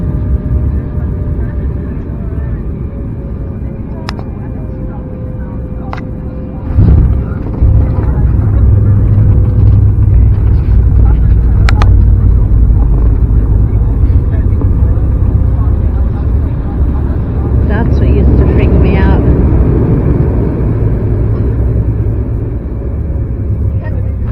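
Inside a passenger airplane cabin, jet engines hold a loud, steady roar that swells as the aircraft builds power for takeoff, with a few clicks and rattles over the rumble.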